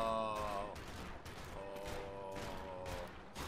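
Turrets firing at swarming aliens in the strategy game Infested Planet, rapid overlapping gunfire in dense bursts with a faint tonal hum, under occasional talk.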